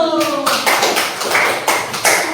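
A class of teacher-training participants claps for the group Pelita Ilmu, crisp close hand claps in loose rhythmic bursts, following a voice that trails off at the start.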